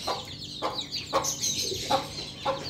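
An Aseel rooster clucks in short, repeated bursts at a steady rhythm, close and clear over faint background chirping in a farmyard.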